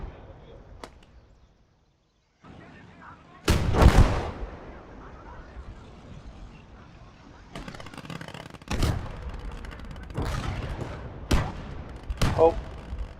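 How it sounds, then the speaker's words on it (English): Artillery fire in a WW2 video game battle at Kursk, a series of sharp, loud cracks and booms spaced a few seconds apart, each trailing off in a brief rumble over quieter battlefield noise. "these guys are going to do some artillery pounding a boom boom"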